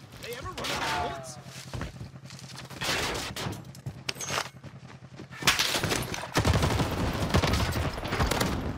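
C58 rifle fire in a video game, repeated bursts of rapid shots loud and close, mixed with other game effects, with people talking over much of it.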